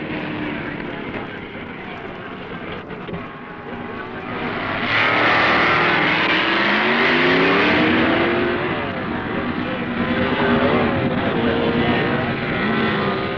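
Two 1969 modified production drag cars, Dick Landy's Dodge and Carl Houchin's Chevy, roar down the strip in a loud, sustained engine blast that swells midway, with an announcer's voice partly under the noise.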